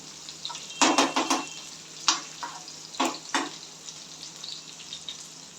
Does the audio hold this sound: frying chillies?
yes